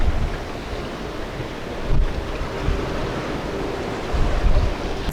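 Strong 23-knot wind and sea waves on a sailboat passage at night, a loud continuous rushing roar with surging swells and wind buffeting the microphone.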